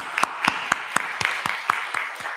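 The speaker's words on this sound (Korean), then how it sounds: "예, 박수하겠습니다." Churchgoers at a Korean Sunday morning service clap in a brisk, even rhythm, about ten crisp beats in close unison, fairly near and with no talk over them.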